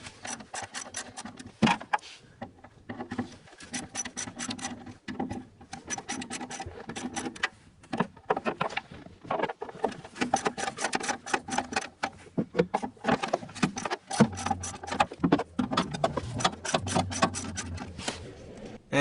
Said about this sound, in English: I'm gonna go ahead and use a socket wrench so that I don't end up stripping those either